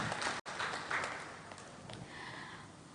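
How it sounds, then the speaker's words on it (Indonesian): Audience applause fills an indoor hall at an economic forum, a steady broadband wash of many hands clapping at moderate loudness throughout, with a brief dropout near the start. "Boleh sekali lagi kami minta tepuk tangan yang meriah hadirin sekalian"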